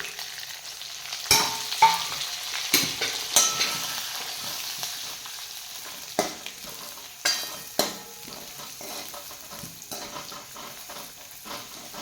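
Steady sizzling of eggplant pieces with garlic and coconut frying in a hot pan, with a few sharp clatters of stirring on top, close and fairly loud.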